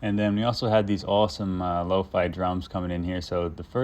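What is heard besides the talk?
No everyday noise stands out behind the speech.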